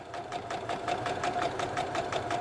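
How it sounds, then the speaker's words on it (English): A sewing machine running a straight stitch slowly along a curved line on a quilt block, a steady close mechanical hum with an even rapid stitching pulse and no speech. "with a straight stitch, I am going to stitch right on that line"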